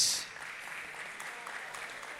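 An audience at a bodybuilding competition, the OCB Colonial Open, claps and cheers for athletes on stage, a steady wash of applause from a moderately distant crowd.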